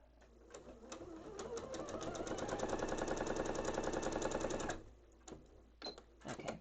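A sewing machine stitches a marshmallow strip onto a quilt block, running in a fast, steady rapid-fire patter for several seconds before stopping, followed by a few soft handling clicks.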